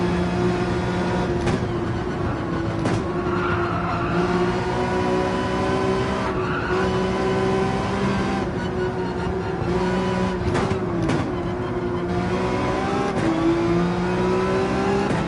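Race cars in Gran Turismo 7 on the Fuji circuit roar steadily at full throttle, engines holding a sustained drone with rising pitch sweeps through gear changes and occasional tire squeal, loud and continuous with no talk.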